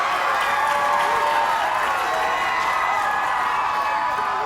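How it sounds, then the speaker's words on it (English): A crowd at a personal development seminar applauds a champion in a dense, sustained wash of clapping and cheering at steady volume. "Can we give Carlo a round of applause for being a champion?"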